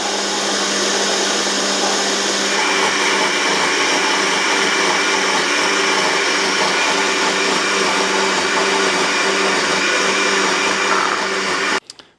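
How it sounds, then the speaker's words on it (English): A blender grinds jasmine rice into a fine cream of rice, a loud, steady motor whir with gritty rattling that runs close and unbroken before cutting off abruptly at the end. "Some jasmine rice blended into a very fine cream of rice."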